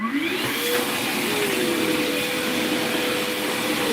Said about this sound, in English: it's actually pretty hard to vacuum up pieces of wire. Even like a rigid shop vac